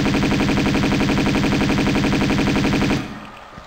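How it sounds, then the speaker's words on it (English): Rapid Uzi fire rings out in a video game as sharks are shot, a dense unbroken burst of automatic shots for about three seconds that cuts off abruptly into quiet. "Let's get the Uzis out again. Got a couple of sharks to kill."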